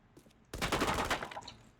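A burst of rapid gunfire from a video game gun test erupts after a quiet half-second, a dense rattling volley that fades off toward the end.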